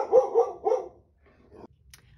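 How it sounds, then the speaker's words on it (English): A neighbor's dog barking, three quick muffled barks followed by a fainter fourth, heard from a short distance indoors without talk. "the neighbor's dog is barking"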